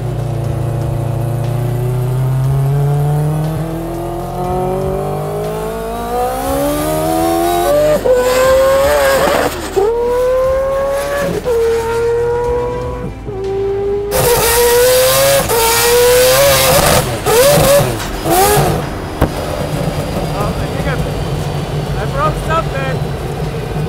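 A car engine revs hard toward high RPM, climbing in repeated rising pulls with sharp gear-like steps and a loud, raspy exhaust howl, close by, with someone speaking excitedly between pulls.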